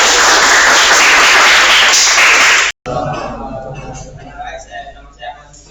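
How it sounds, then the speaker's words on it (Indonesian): An audience claps after a presentation in a small room, a dense, loud burst of applause lasting a few seconds before cutting off abruptly, followed by a person speaking. "Bisa diberi tepuk tangan teman-teman ini"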